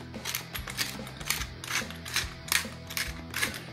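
Black pepper is cracked from a grinder over a raw burger patty, giving a fast, close run of dry ratcheting crunches with no talking.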